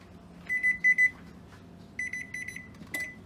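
A kitchen timer alarm goes off in two bursts of rapid high-pitched beeping, a first run of several beeps and a second run a moment later, ringing out fairly loud over a quiet room.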